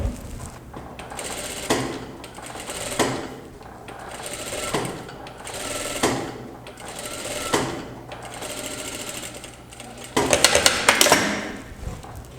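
A sewing machine stitches a pocket on a pair of trousers in a steady rhythm of repeated runs, ending with a louder, busier burst of stitching.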